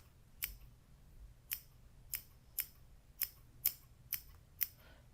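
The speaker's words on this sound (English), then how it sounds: "Just clip this off with my beautiful scissors here." Pelican scissors snip through fabric in a steady series of about eight crisp, close clicks, roughly two per second, against a quiet background.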